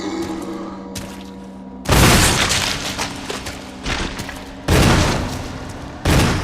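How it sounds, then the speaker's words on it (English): Shotgun blasts fired at zombies in the game Resident Evil HD: four loud booming shots spaced about a second apart, each with a decaying tail over a low ambient game hum. "Just kill them with your shotgun."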